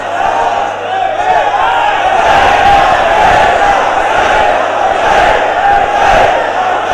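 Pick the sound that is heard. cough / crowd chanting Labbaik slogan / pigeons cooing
crowd chanting Labbaik slogan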